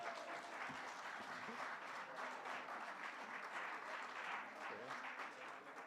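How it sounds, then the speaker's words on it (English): Audience applause at the end of a presentation in a research conference room: steady, dense clapping from a sizeable crowd that fills the whole stretch at an even level and fades slightly at the close. "I don't need to ask for a robust round of applause because you gave him one."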